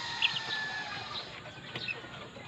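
Backyard chickens in a chicken run with a floor partly covered in burnt rice hull, clucking softly and intermittently, faint against steady background noise.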